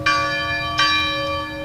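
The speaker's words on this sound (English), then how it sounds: "bells ringing out at this local church, symbolizing the moment law enforcement finally killed the gunman" Church bells at a local church in Uvalde ring out in a memorial toll, two clear strikes about three-quarters of a second apart, their bright ringing tones sustaining and blending over a steady background, with no voices.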